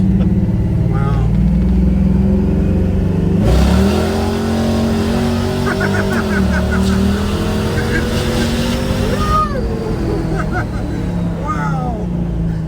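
Old farm truck rebuilt as a hot rod accelerating hard through the gears, its loud engine climbing in pitch and dropping at each shift close by, with the tires breaking loose at the top, while people talk over it.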